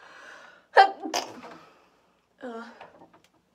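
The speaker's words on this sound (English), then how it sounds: "I'm going to sneeze" A single sharp human sneeze bursts out close to the microphone after a brief quiet breath, followed by a short pause and a bit of voiced murmuring.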